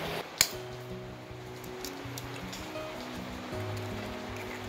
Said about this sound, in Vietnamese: Thôi, vô thôi, mưa rồi.